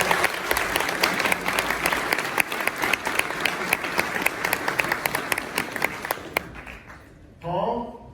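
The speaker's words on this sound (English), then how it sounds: "Please give him an applause again." An audience at a BYD electric vehicle launch event in Europe gives sustained applause, dense clapping that carries steadily for several seconds before tapering off, with a short spoken phrase at the end.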